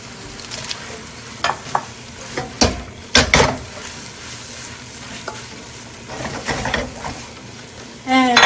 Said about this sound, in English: I'm going to just give this a little stir